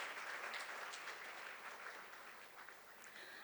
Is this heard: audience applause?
yes